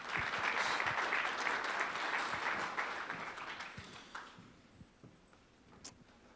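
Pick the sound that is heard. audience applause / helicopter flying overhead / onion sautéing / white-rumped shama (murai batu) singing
audience applause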